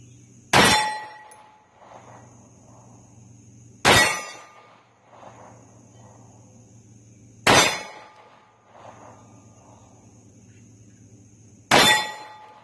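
Pistol rounds from a Taurus G3 striking a big steel target plate: four sharp, ringing metallic clangs spaced a few seconds apart, each decaying quickly, with faint distant report between hits.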